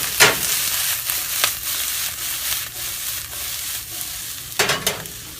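Mushrooms frying in olive oil in a pan, a steady bright sizzle broken by sharp tossing and stirring bursts near the start and again toward the end.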